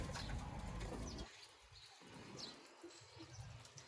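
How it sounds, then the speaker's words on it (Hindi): Sialkoti pigeons flap and flutter nearby while soft coos and faint chirps come through, a rustling wash of wings easing into quieter bird sounds. "ये नायाब तरीन सियालकोटी कबूतर है"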